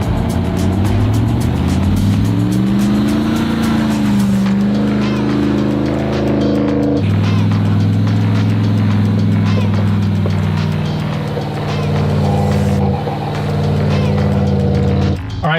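A Jeep Gladiator fitted with a 1,025-horsepower Demon crate engine and an 8-speed transmission drives off-road at Johnson Valley. Its loud, close engine drones steadily throughout, its pitch rising and falling as it accelerates, and a voice may sound faintly beneath it.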